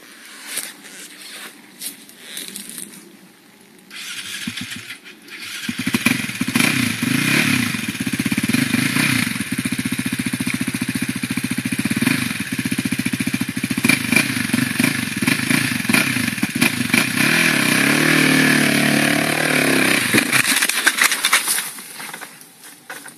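A motorcycle engine runs steadily and loud for most of the stretch, starting after a quieter opening and cutting back down near the end, with some clatter mixed in.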